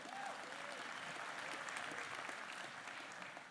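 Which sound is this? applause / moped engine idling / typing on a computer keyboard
applause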